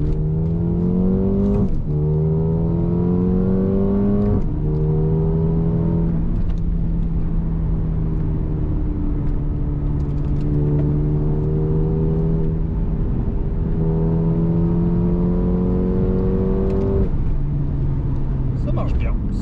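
A Mercedes A35 AMG sedan engine revs hard and close, its pitch climbing repeatedly then dropping at each gear change as it accelerates.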